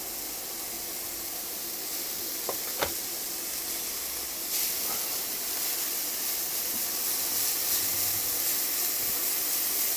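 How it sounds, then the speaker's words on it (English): Minced beef fries in small batches in a dry pan with no fat, giving a steady, quiet hiss that runs through the whole stretch, with a couple of faint clicks near the start. "I'm going to fry the beef off, but in small amounts and with no fat in the pan"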